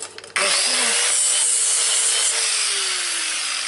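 A power tool grinds away a broken weld tack on metal, starting after a short clatter and holding a loud, continuous abrasive whine with a slowly shifting pitch.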